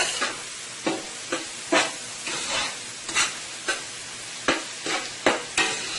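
Guyanese boiled provisions and eggs cooking in a pan with steam and fry, heard as a close, even sizzle broken by regular stirring scrapes about every half second.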